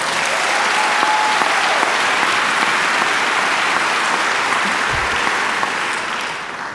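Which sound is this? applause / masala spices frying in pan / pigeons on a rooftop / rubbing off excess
applause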